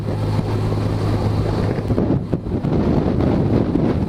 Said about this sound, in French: ça souffle. Quand on est à découvert comme ça dans les champs, là, on se prend des sacrées rafales